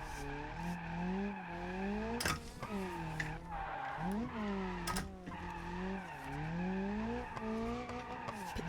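Rear-wheel-drive drift Pessima with a welded diff in BeamNG.drive, tires squealing in long sustained slides over a steady engine drone, with pitch rising and falling through transitions and a couple of sharp bursts.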